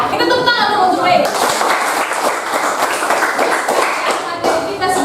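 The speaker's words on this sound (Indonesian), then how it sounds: "Kita tepuk tangan dulu untuk Ray." A school class claps together in a steady patter for several seconds, close and lively, with voices mixed in.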